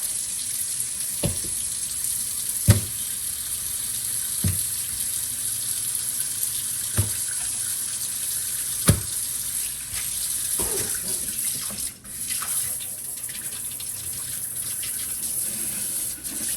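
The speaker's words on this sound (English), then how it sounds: "Run it under some cold water." Cold tap water runs steadily into a sink, with soft intermittent thuds and splashes as a turkey is rinsed under the stream.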